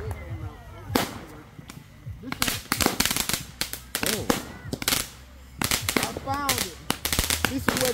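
Firework mortars and firecrackers bang repeatedly at a 4th of July gathering outdoors, several sharp loud bursts in an irregular sequence, with people talking and exclaiming between and over the blasts.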